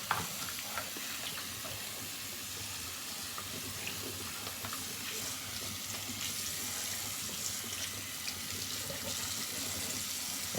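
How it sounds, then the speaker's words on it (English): Tap water running steadily into a sink while a hair color brush handle is rinsed, a constant soft hiss and splash at moderate distance. "I'm gonna rinse that handle off."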